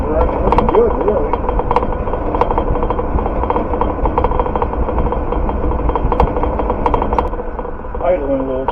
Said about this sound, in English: Idling a little too high, but that's okay for now.